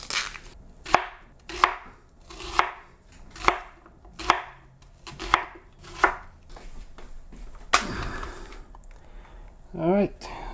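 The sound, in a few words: food processor chopping red onion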